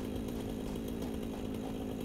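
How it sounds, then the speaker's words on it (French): A small fuel-powered chainsaw in the video game Satisfactory runs continuously with a steady, buzzing two-stroke drone while cutting trees, moderately loud and alone. "la petite tronçonneuse, qui fonctionne avec du fuel"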